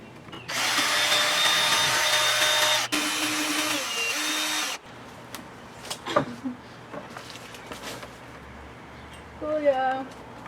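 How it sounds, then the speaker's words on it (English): A power drill whirs loudly for two bursts while unbolting a treehouse climbing wall, then cuts off, leaving faint clicks, knocks and brief distant voices. "To unbolt them, I'm using my drill again."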